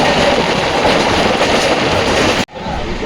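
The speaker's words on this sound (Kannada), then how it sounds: "ಟ್ರೈನ್ ನಂಬರ್ 12080 ಹುಬ್ಬಳ್ಳಿ ಕೆಸ ಬೆಂಗಳೂರು ಸಿಟಿ ಜಂಕ್ಷನ್ ಜನಶತಾಬ್ದಿ ಎಕ್ಸ್ಪ್ರೆಸ್ಸಲ್ಲಿ ಇವತ್ತು ನಾವು ಟ್ರಾವೆಲ್ ಮಾಡ್ತಿದ್ದೇವೆ" Jan Shatabdi Express train, Hubballi to Bengaluru, rumbles loudly and continuously with a broad rushing roar before cutting abruptly to a quieter interior hum.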